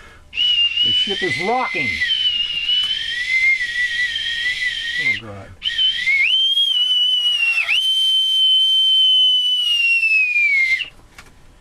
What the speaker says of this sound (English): What's going on with me bosun's whistle?